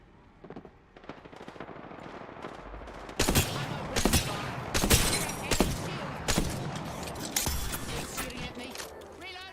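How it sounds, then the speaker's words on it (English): Bursts of video game gunfire in a battle royale match, loud sharp shots in quick clusters over a busy game soundscape, with someone talking intermittently. "Shooting at me."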